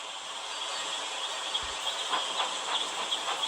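Toy-like engine sounds from a children's train video game: a soft, steady hissing chug with light rhythmic puffs, fairly faint and continuous over a few seconds.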